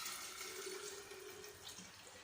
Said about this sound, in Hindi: हम डालते हैं नीम गर्म सा पानी